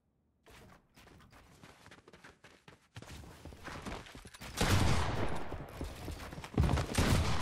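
Pump shotgun blasts in a realistic-style shooter game, fired in a rapid irregular string. The shots grow louder and denser partway through, with heavy reports over a busy, clattering background.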